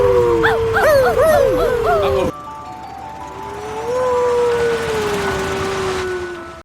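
A human voice imitates a dog for a dubbed movie bark, producing yelping, whining dog-like cries that shift into a long sustained tone, loud and close against a background of other sound.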